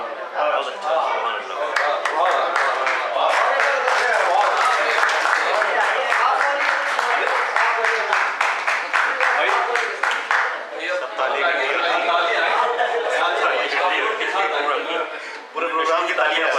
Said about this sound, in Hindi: पूरे प्रोग्राम की तालियां पाइए।